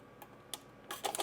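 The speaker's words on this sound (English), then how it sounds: "I'm just gonna pierce some holes through" Parchment paper lining the bottom of a double boiler being pierced with holes, a few faint, sharp crisp pokes and crackles spaced apart, quiet and close.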